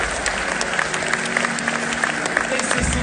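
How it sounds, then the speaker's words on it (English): Applause for a sailor at the Vendée Globe closing ceremony, a steady, lively crowd clapping with occasional louder claps, sustained throughout and fairly close. "Applaudissements pour Pip, s'il vous plaît."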